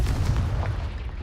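A deep, rumbling blast of the Confringo explosive spell in Hogwarts Legacy, a heavy low boom that swells and decays over about a second, with no talk.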